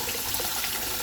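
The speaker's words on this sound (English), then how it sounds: "then I wash that off" Tap water runs steadily into a sink while oxtail is rinsed for Jamaican cooking, a close, even splashing rush through the whole brief moment.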